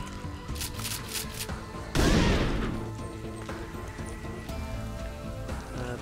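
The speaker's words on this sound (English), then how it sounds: "Scatter shot." A scatter-shot gun attack in the zombie survival game Dead Age 2 lands as one loud, sudden crashing blast that trails off over about a second, set against game music and lighter effects.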